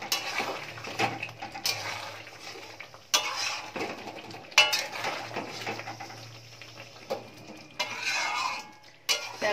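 Small new potatoes for winter aloo dum, with lime juice added, are mixed in a pan with a spoon, giving repeated clinking and scraping strokes against the pan at close range, with brief pauses between bursts.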